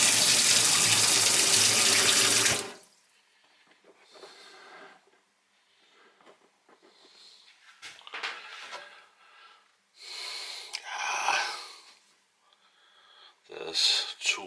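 Hot water gushes loudly from a kitchen tap into a sink for about two and a half seconds, then stops abruptly; quieter scattered handling noises and brief splashes follow.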